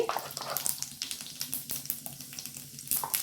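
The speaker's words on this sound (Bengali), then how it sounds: "জিরেটা ভাজা হয়ে গেছে" Cumin seeds crackle and sizzle in hot oil in a pan, a close, steady frying hiss with small pops and a few stirring scrapes, with no talking.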